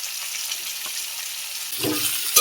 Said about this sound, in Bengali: কুমড়োগুলো দিয়ে দেবো, আলুটা দিয়ে ভালো করে ভেজে নেব